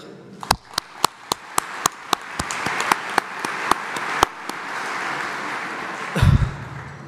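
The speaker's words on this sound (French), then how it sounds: "Je vous demanderai, mesdames et messieurs, de bien les applaudir." Applause at an annual dinner gathering, starting as a string of sharp, evenly spaced single claps close by and building into broader steady clapping from the room, with a brief thump near the end.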